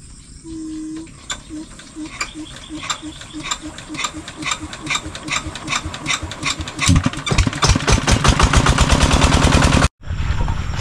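A small engine on a farm sputters to life with a short whine, then chugs in rapid, rhythmic pulses that grow louder and faster before cutting off abruptly near the end.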